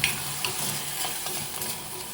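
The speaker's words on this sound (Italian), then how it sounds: "Il soffritto è pronto, alzo la fiamma, un goccino di verdicchio per sfumare." Verdicchio white wine splashes into a sizzling pan of soffritto over raised heat, giving a steady hissing fry with small crackles and stirring noises, close and moderately loud, no talk.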